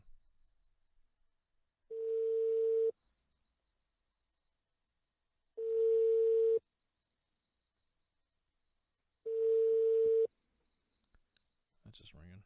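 A telephone line rings out: three evenly spaced electronic tone bursts, each about a second long, separated by roughly three seconds of silence, clear and alone.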